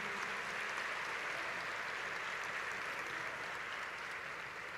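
A large church congregation at a state adolescents' congress applauds for Jesus, a dense, steady wash of clapping that holds evenly without a break.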